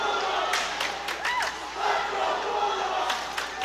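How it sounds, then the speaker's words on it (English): Rockland Bulldogs fans cheering at a varsity ice hockey game against Abington, a loud, steady crowd roar with shouts and whistles rising and falling throughout. "Rockland faithful cheering in."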